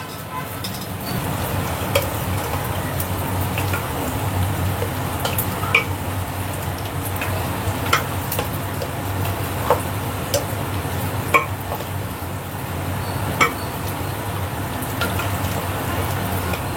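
Chicken with marinade and fried onions stirred in a pot for biryani, a steady wet squelching and mixing with sparse sharp ticks of the spoon against the vessel, close and continuous with no talk.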